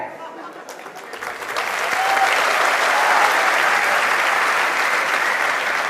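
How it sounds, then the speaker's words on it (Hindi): A large student audience roars in response, a loud wash of many voices and cheering that swells after a moment and holds steady. "देख लो कितने सारे लोगों की आवाजें आई है।"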